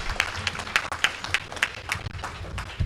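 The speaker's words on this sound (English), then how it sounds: "Please give them a round of applause" An audience at a Union of Liberian Association in the Americas 50th anniversary celebration applauds a former president, with steady, fairly quiet clapping that continues through the whole stretch.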